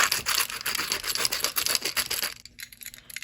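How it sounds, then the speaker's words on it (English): High-grit sandpaper rubbed over a part during final assembly of a pneumatic animatronic Yoshi, giving steady rhythmic scratchy strokes close up for about two seconds before it stops, with no talking. "Let me like see if I could sand this with a high grit sandpaper real quick."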